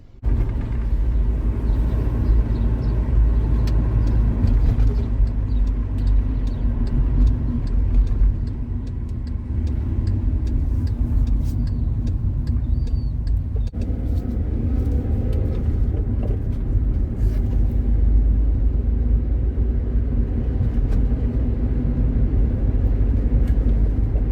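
A car driving on the road, recorded by a Nuokaiqi dash cam from inside the cabin, gives a loud, continuous low engine and road rumble with a brief shift in tone partway through, and no one speaks.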